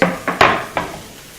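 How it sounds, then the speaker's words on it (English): A pan or cutting board is flipped over on a kitchen counter while a sandwich is being made, giving three or four sharp, close wooden-and-metal clunks in quick succession with short ringing tails. "I just want to flip my pan here"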